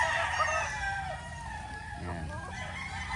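A gamefowl rooster of Kelso, roundhead or white line crows loudly nearby in a long, drawn-out call, with faint background chatter and farm noise.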